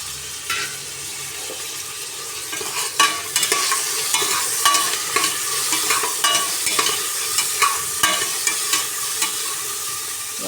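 Coriander leaves and tomato sizzle steadily in hot oil in a pan for khushka biryani, with repeated scraping stirs and sharp crackles throughout, close and fairly loud.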